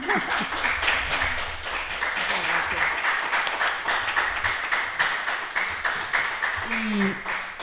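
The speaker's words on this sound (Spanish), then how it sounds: "un aplauso para mis 4 escritoras de Almería" Applause rings out from the audience at a women writers' gathering in Almería, Spain, greeting four authors with steady, continuous clapping that holds for several seconds while voices murmur underneath.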